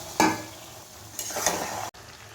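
Raw washed meat dropped into oil-fried spice paste in a pan for a Bengali potato and meat curry, giving a sharp sizzle burst followed by spoon stirring and scraping, then a second louder sizzle before cutting off.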